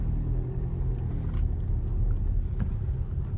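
A Skoda Superb Laurin & Klement with a 2.0 diesel engine, DSG automatic and 4x4 pulls away after being put in drive, giving a steady low interior rumble of engine and road noise without talk.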